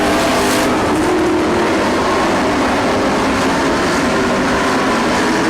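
Race cars roar around a racetrack near the final laps, a loud, dense, unbroken engine drone with no talking.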